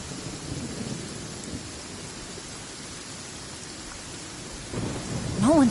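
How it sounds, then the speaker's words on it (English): Rain pours steadily in a Genshin Impact thunderstorm, a soft continuous hiss with low rumbling thunder swelling near the end, and a brief chirping tone at the very close. "It always rains when I go on an adventure."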